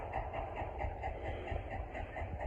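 The No 2 steam locomotive on the Billy Jones Wildcat Railroad in Los Gatos, California, approaching with a steady low rumble and rhythmic chuffing, fairly close and continuous.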